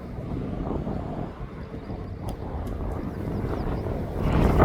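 An aircraft taxiing at East Midlands Airport gives a steady, broad low rumble that holds for several seconds and swells louder toward the end as it draws nearer.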